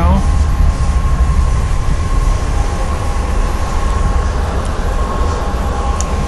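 Steady low rumble inside the business class car of a Pacific Surfliner passenger train, a constant deep drone with a faint high hum and occasional light rattles.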